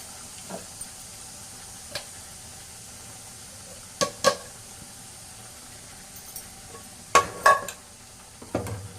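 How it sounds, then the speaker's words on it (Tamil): Green chilli, ginger, garlic and tomato sautéing in a pan, a soft steady sizzle under scattered clanks and scrapes of a spoon stirring against the metal, close and fairly quiet. "பச்சை மிளகாய், இஞ்சி, பூண்டு, தக்காளி வதக்கணும் இல்லைங்களா"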